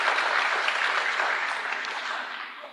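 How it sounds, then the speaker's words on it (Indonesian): Audience applause at an Aceh tsunami twentieth-anniversary commemoration, honoring the Aceh Tsunami Archive: dense, steady clapping from a crowd that holds throughout and tapers slightly at the end. "Tepuk tangan untuk Balai Arsip Tsunami Aceh."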